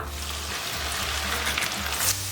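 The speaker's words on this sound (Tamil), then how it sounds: "இப்போ இதையும் ஃப்ரை பண்ணி எடுத்துக்கலாம்." A soaked, dried ingredient for a bakery-style South Indian mixture fries in hot oil, making a dense, continuous crackling sizzle up close with no voices.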